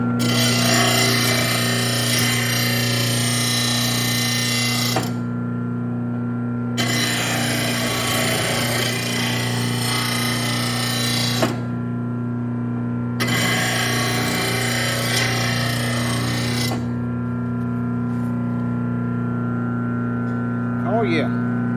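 A lawn mower blade is dragged through a VEVOR blade sharpener in three long grinding, rasping strokes, each several seconds long with short pauses between, over a constant low motor-like hum; a voice speaks faintly near the end.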